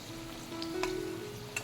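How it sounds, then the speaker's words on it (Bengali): Potatoes fry in oil for biryani, giving a soft, continuous sizzling hiss with a few faint crackles, heard alone at close range. "আলুগুলো নামিয়ে নিচ্ছি, মোটামুটি ভাজা হয়ে গেছে।"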